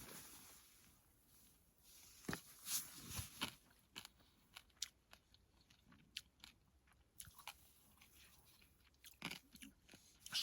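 Crunchy, undercooked camp pasta with an oniony sauce being chewed outdoors at a winter wild camp in the Lake District, giving close, irregular crunching bites and mouth clicks over a faint windy background.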